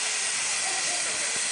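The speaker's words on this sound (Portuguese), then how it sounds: "Primeiro vapor! Vapor de cima!" Steam hisses steadily and loudly from a steam engine during its first steam-up, a continuous broad rush with no break.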